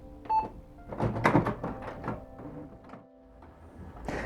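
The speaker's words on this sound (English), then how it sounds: "Press OK again, and your machine will start producing that test page I mentioned." A Canon Maxify MB2150 inkjet printer runs a nozzle check test page, giving off a close series of mechanical whirs, clicks and feed rattles that vary in loudness, with a short quiet gap near the end before the motor noise returns.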